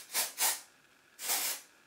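A Batiste dry shampoo aerosol can sprays onto hair at the scalp in three close, hissing bursts: two quick ones, then a brief pause and a longer third spray, with no talking.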